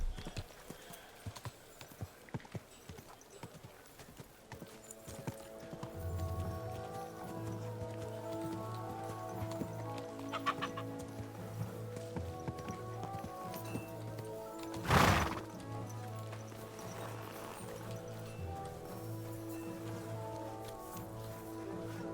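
Horse hooves clip-clop steadily in a video game, joined by occasional whinnies and a sharp thud midway, with low background music throughout.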